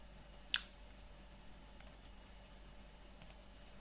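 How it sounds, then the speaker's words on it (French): Sharp clicks from a computer mouse, one clearly at first, then two quick pairs spaced apart, quiet over faint room hum. "Je clique sur un autre, on a aussi l'information"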